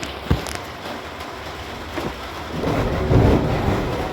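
Steady rain falls throughout while thunder rumbles low, swelling in the final seconds, with a few sharper knocks early on and no voices.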